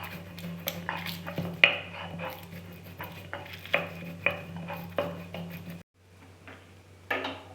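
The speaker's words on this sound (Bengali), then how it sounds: "শুকনো খোলায় যেই মশলাগুলো আমি ভাজলাম ওগুলো আমি এবার একটু বেটে নিচ্ছি" Dry-roasted whole spices, including coriander, two cinnamon sticks and mace, are ground by hand, giving close, irregular knocks and scrapes over a low background hum. A short quieter pause comes before a final burst of grinding.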